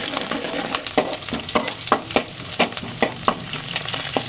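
Garlic paste roasting in a hot pan with green chillies for pepper chicken: a dense, steady frying hiss punctuated by regular spoon scrapes and taps close by, with no talking.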